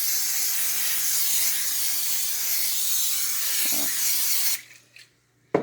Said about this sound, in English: Never spray pans in a direct open flame, even if the pan is over it.